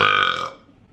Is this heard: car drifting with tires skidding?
no